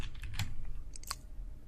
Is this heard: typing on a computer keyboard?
yes